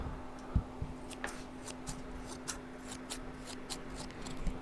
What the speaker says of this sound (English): I have a pair of scissors.